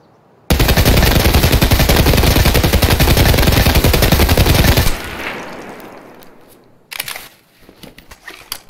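Sustained full-auto gunfire in Escape from Tarkov, a loud unbroken automatic burst of about four and a half seconds at high frame rate, then a brief quieter tail with a few scattered clicks and thumps.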